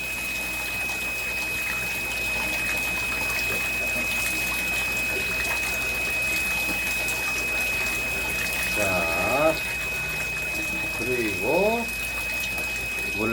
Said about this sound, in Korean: 이렇게 길게 저어주세요.